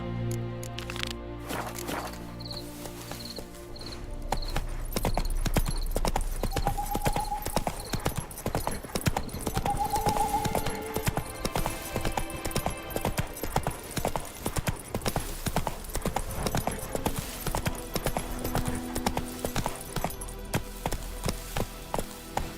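Roach, the horse in The Witcher 3, gallops with a fast, steady clip-clop of hooves that lasts throughout, set against soft game music and ambient tones.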